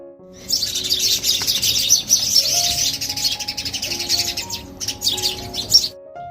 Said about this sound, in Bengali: ফজরের আজানের পর থেকেই পাখিগুলো এভাবে ডাকছে আর সবগুলো পাখি একসঙ্গে হয়েছে